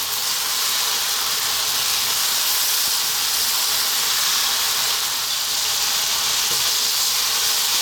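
Fish with onion, garlic and ginger frying over high heat for Chinese ginger fish, making a loud, even, hissing sizzle that holds steady from start to finish with no voices.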